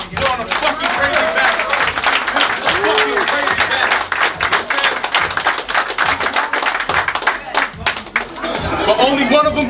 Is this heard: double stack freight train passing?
no